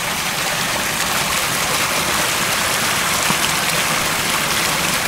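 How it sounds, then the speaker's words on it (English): Water flowing through a marshy area, a dense, continuous rushing wash that stays steady and close throughout with no voices. "I find this water very comforting,"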